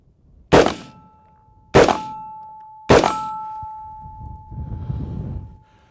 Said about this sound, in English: Shoot at that steel target down there.